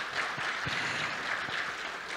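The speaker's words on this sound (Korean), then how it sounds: "박수 부탁드리겠습니다" Audience applause at a ceremony marking KAIST's 50th anniversary, a steady, fairly faint wash of clapping from a large hall crowd lasting the full stretch with no talk over it.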